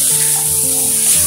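Onion paste stirred and frying in a pan for paneer kofta gravy, a steady close sizzle with faint scraping of stirring throughout, no talking.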